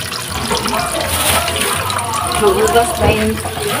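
Tap water runs steadily while cooking utensils are washed after a meal is made, a continuous splashing flow with some background clatter.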